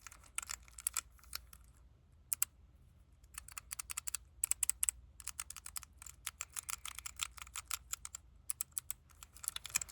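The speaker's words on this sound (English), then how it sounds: "the clicky keycap makes like those really sharp clicks" Sharp, crisp clicks from a keyboard switch cube fidget toy with a clicky keycap come in rapid irregular bursts and pauses, close and quiet with no talking.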